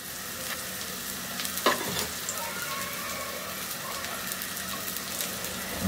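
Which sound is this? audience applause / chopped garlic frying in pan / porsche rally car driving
chopped garlic frying in pan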